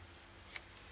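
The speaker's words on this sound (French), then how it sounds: "Les ciseaux." Scissors snip through paper twice, the two short, crisp cuts about a fifth of a second apart and fairly faint against a quiet room.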